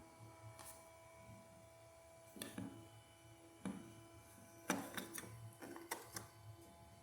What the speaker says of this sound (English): it actually sounds like a real refrigerator